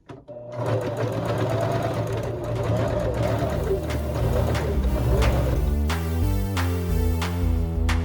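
Close and loud, a sewing machine stitches the gusset of a reusable fabric tote bag in a continuous whirring run whose rhythm shifts partway through.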